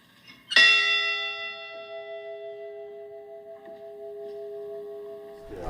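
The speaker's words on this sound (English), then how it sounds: "To ring the bell and just hear it the first time was..." Memorial bell for the Edmund Fitzgerald crew struck once, a bright clang followed by a long, steady ringing decay lasting several seconds, with a faint second strike at the very end.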